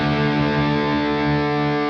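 An electric guitar plays through the Cathedral reverb setting on a Revv G20 pedal, giving one sustained, heavily distorted chord that rings out with a long, washy reverb tail and no voices.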